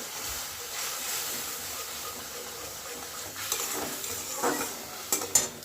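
Turmeric and chilli paste poured over fish frying in a pan, giving a soft, steady sizzle with scraping stirs that grow into louder clinks and clatters near the end.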